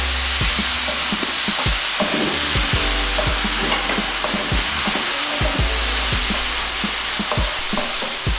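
Tomatoes go into a pan with chili powder and turmeric and fry, a steady sizzle under repeated sharp scrapes and knocks of stirring, close and fairly loud, without talking.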